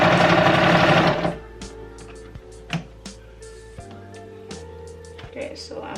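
Sewing machine stitching thick fabric for a Christmas pillow cover, a loud steady whir for the first second that then drops to quiet ticks and soft mechanical clicks of the machine slowing and stopping.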